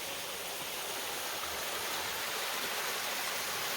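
A canyon stream rushes steadily near a walkway on a waterfall loop trail in Uvas Canyon County Park, a smooth continuous hiss with no voices.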